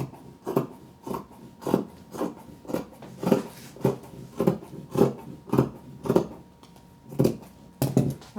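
Rhythmic rasping snips of scissors trimming dress fabric, about a dozen evenly spaced cuts close by with no talking.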